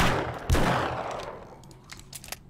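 Gunfire in the zombie survival video game 7 Days to Die, one heavy loud blast whose echo decays over a second, followed by a few quieter clicks and clatters.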